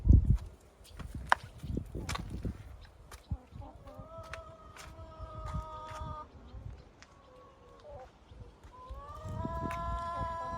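A chicken, likely sick, clucks repeatedly in drawn-out, wavering calls, fairly close, over rustling and scattered knocks in the background.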